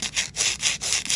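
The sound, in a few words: filing and reshaping artificial nail tips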